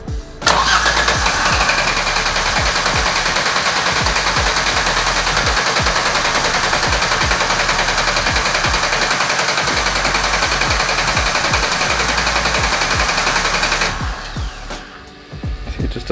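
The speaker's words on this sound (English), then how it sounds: "I'll show you what the exhaust sounds like" A car engine cranks, catches and runs roughly with a loud, uneven, sputtering exhaust for about fourteen seconds, with no revving possible because of a mass air flow sensor fault, then stumbles and cuts out.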